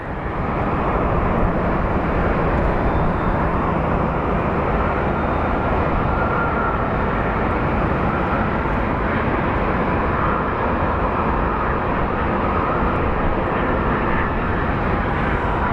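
Airplanes at Phoenix Sky Harbor International Airport, a steady loud jet engine roar that holds without breaks for many seconds, broad and rumbling with no voices over it.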